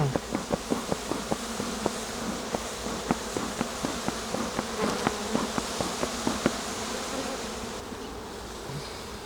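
Dense honeybee buzzing fills the air around a hive while frames are inspected, a loud continuous drone with sharp repeated taps and knocks of hive tools and wood scattered through it.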